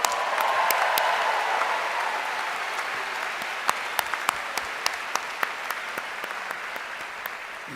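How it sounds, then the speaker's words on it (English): A round of applause fills a hall at the Utah State University 2024 commencement ceremony, with dense, even clapping from a large crowd that thins toward the end, leaving scattered individual claps. "Let's give them another round of applause."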